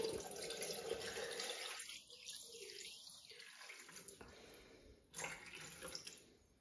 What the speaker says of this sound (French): je vais mettre mes 600 g d'eau